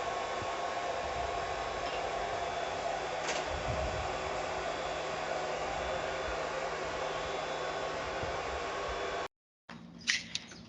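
A hair dryer runs steadily as part of a lab diffusion experiment, a loud continuous broadband whoosh for about nine seconds before cutting off abruptly, followed by a short burst of clicks and handling noise.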